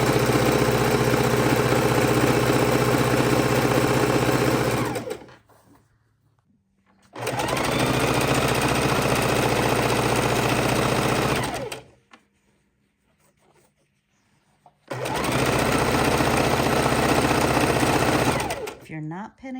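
A sewing machine stitches quilt fabric in three long, loud, steady whirring runs, each lasting several seconds, with near silence between them.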